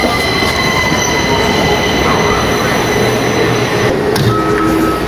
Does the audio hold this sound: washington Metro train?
yes